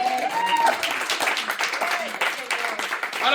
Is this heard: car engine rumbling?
no